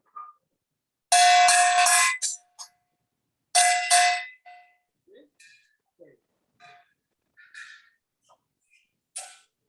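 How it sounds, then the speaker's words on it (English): Two bright metallic strikes of a small Chinese gong (xiaoluo), each ringing briefly, followed by quieter scattered sounds and a voice speaking. "small gong."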